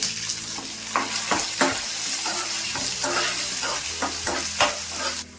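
Onion and garlic sizzle and crackle in hot oil with repeated scraping and stirring sounds, steady frying noise close up with no voices.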